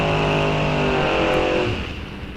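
A drag race car at Rock Falls Raceway roars loudly down the track in one sustained, close engine blast that eases slightly toward the end, with no talk.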